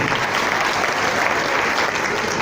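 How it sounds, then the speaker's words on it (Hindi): A crowd claps steadily and loudly throughout, a dense, even wash of applause with no pauses, at an Indian Independence Day celebration event. "आइए एक बार एक दूसरे के लिए जोरदार ताली बजा दें"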